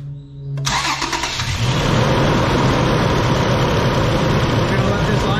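A 2006 Toyota Tundra 4.0 V6 cranks briefly and catches, settling into a steady, loud idle; a faint voice is heard before the start.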